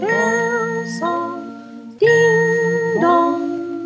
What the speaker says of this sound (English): I play a soft bell song, softer, softer